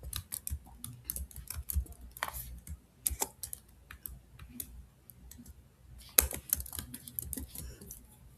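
Quick, light keystrokes on a computer keyboard as a name is entered in an Excel sheet, close and fairly soft in irregular bursts with occasional sharper clicks.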